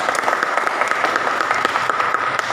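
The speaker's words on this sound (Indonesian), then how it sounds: "Tepuk tangan untuk kelompok 1." A classroom of students claps for a group, a steady, fairly loud burst of many hands clapping together throughout, with no talk over it.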